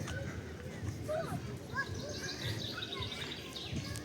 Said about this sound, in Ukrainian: Але гарно чути, як пташки співають вже.